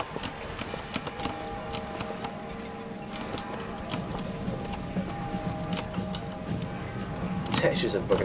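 A horse's hooves clip-clop steadily in the video game Bioshock Infinite, a continuous mid-level trotting rhythm mixed with a busy ambient backdrop and a voice talking over it.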